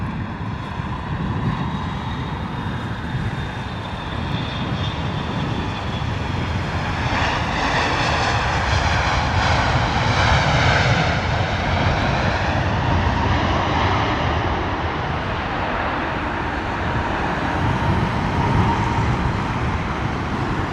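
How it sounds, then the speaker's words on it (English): An Air Canada Boeing 777 landing at London Heathrow in wet, windy weather, a loud sustained jet engine roar with a sweeping, shifting whine as it passes, steady throughout with no talking. "Air Canada Boeing 777."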